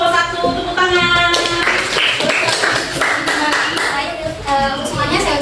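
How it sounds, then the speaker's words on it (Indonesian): Audience clapping for a student group in a classroom presentation, steady continuous applause throughout with voices mixed in. "Terima kasih untuk kelompok 1, tepuk tangan."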